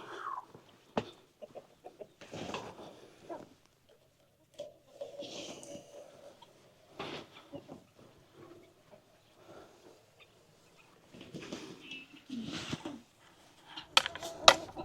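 Chickens cluck softly in a coop being prepared for an ice storm, with scattered, faint clucks and short calls separated by quiet gaps.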